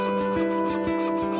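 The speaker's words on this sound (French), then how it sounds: "On actionne la scie avec le pied." A foot-operated marquetry saw cuts wood with a steady buzzing rasp and regular strokes, close and continuous, with no talking.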